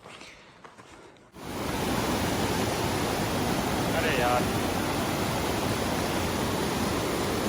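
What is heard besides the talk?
mountain stream rushing water on Yulla Kanda trek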